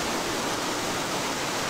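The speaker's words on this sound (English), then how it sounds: "but it's still pouring the rain" Heavy rain pours down steadily outdoors at a raft-building site on a Pacific shore, a dense continuous hiss without pause and no voices.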